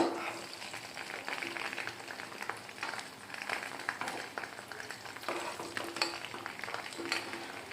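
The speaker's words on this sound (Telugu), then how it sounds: "చూసారా అలా వేగినాయో ఈ గుడ్లు అప్పుడప్పుడు పేలుతూ ఉంటాయి" Eggs fry in oil with a steady, fizzing sizzle broken by scattered sharp pops and crackles, heard up close at moderate loudness.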